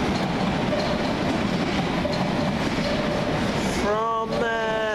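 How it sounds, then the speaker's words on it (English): Thameslink Class 319 unit 319424 pulls out of Farringdon station on a Sutton to St Albans City service, with a steady rumble of wheels and running gear throughout, then rising whine-like tones from the traction motors near the end. "Train out 319424, working the 1719 Govia Thameslink service"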